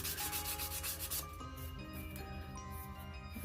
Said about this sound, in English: I'm gonna give it some more sanding and we'll come back.